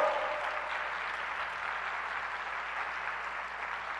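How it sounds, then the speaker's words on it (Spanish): A church congregation claps loudly and steadily, a dense crowd applause that carries evenly from start to finish with no voices on top. "Dale un fuerte aplauso al Señor, hermano amado."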